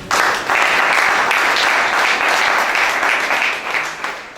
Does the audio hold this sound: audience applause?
yes